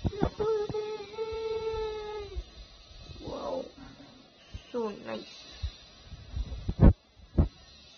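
A cat meows several times nearby, a long drawn-out call followed by shorter cries, mixed with a person's voice and a few sharp knocks.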